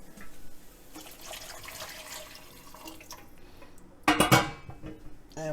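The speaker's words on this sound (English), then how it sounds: "And we're going to add some water." Tap water runs into a cooking pot holding a roux for meatball stew, starting as a low background trickle and then swelling into a louder splashing gush near the end.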